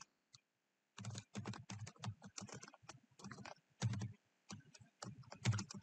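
Keys clatter on a computer keyboard while writing test code, bursts of quick close typing separated by short pauses, with no talking.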